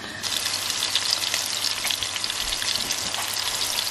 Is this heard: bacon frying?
yes